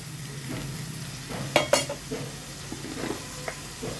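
Tomatoes dropped into onions frying in hot oil for an egg and dry fish curry, a steady sizzle with a few sharp clattering hits of utensil against the pan and stirring.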